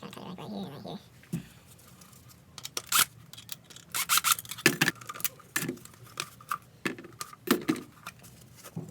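Scissors cut through the packaging of a Spectre air filter for an MK4 Jetta 1.8T, a run of close, irregular snips and crinkles heard alone.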